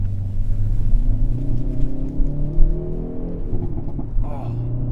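A manual 2021 Hyundai Veloster N pulls hard in second gear through a tight 90-degree bend, its engine rumbling close and steady with rising revs, a brief shift near the end.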